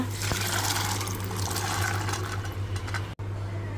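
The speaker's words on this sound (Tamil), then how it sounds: "வேக வச்ச பட்டாணியை தண்ணியோடையே சேர்த்துக்கோங்க" Boiled peas and their cooking water pour steadily into a pan, a continuous close splashing with a low hum in the background.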